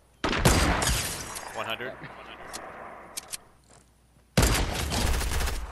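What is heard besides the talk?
gunfire in Fortnite video game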